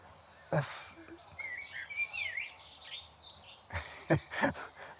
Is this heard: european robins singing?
yes